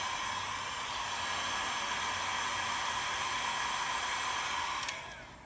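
A heat blower roars steadily at close range while warming a vinyl car stripe to loosen it. The constant whooshing hum cuts off with a click just before the end.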